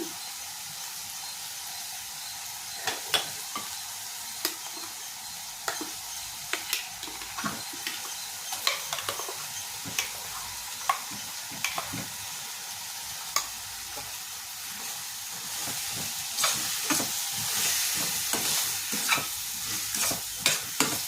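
Ground masala paste for beetroot and chickpea gojju sizzles in a pan with a steady frying hiss, while a spoon stirs it with repeated scraping clicks that grow busier toward the end; no one speaks.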